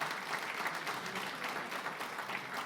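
Congregation applauding in a church service, continuous even clapping from a large room of people, fairly distant and soft, with no talk over it.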